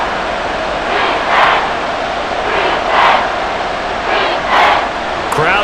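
Stadium crowd in a Madden NFL 24 football game, Steelers versus Texans, a steady broad roar with swelling cheers rising and falling every second or so.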